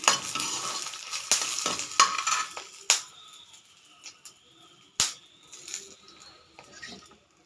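Cumin and coriander seeds fry in a pan, crackling under sharp metal spoon knocks and scrapes that come irregularly, loud at first and then sparser and quieter.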